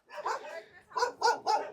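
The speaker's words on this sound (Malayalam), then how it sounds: "കൂടെ വന്ന പട്ടിതോ അവിടെ ഇരിക്കുന്നു." A village dog in Uttarakhand gives a short run of close barks and yips, one drawn-out call followed by three quick sharp barks in under two seconds.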